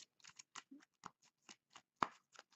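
A deck of cards shuffled by hand for the board game Destination Neptune, heard as a series of short, quiet, crisp flicks and riffles spaced irregularly, close and soft with no talk.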